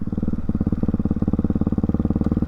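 Ducati Hyper 698 motorcycle fitted with an SC Project exhaust, a loud close rapid-fire thumping engine note with steady pulsing firing rhythm, heard alone.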